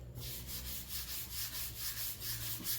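Steady, rhythmic strokes of a hand rubbing across rough, scratched paint on a Honda Element, a soft scratchy swish repeating about every third of a second, close up with no talking.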